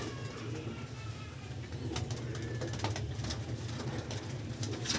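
Male pigeons in a loft coo softly in low, rolling calls under a constant background hum, moderately distant and with no voices.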